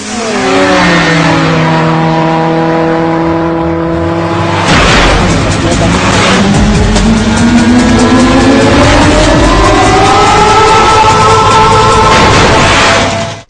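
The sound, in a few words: air-powered bike running on the road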